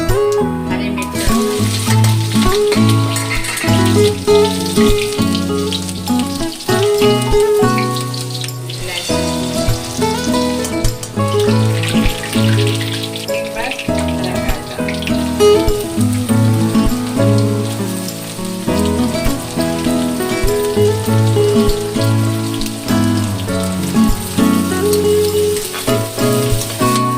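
Cumin seeds and green chillies sizzle and crackle steadily in hot oil, a loud, dense spitting hiss that continues throughout with small shifts in intensity.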